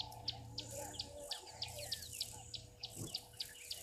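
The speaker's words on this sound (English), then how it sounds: "I'm so fascinated about these starlings going in and out." Starlings fly in and out of a nest at a waterhole. Rhythmic high chirps repeat steadily against a constant insect and cricket drone, with low background hum and no talk.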